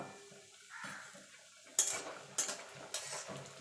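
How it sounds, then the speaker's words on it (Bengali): Black gram lentil dumplings (bori) fry in hot oil in a wok, giving a quiet, steady sizzle broken by several sharp metallic scrapes and clinks from stirring close by. "তেল গরম হয়ে গেছে এখানে কটা আমি বিউলির ডালের বড়ি নিয়ে নিয়েছি বড়িটা ভেজে নেব"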